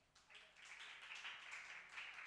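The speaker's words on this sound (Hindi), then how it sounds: "वेरी गुड, ताली बजाएंगे।" Children clap together in a room, a brief round of soft, dense applause lasting a couple of seconds, fairly faint.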